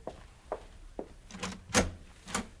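A door in a radio drama set after midnight, heard as a series of soft knocks and thuds followed by brighter clattering bumps of the door being worked, close and fairly quiet with no speech.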